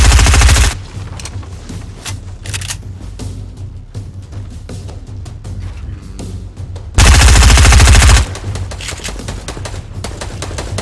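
Gunfire in Fortnite: loud sustained automatic bursts open and return near the end, with sparser rattling shots and clicks between them, close and without talk.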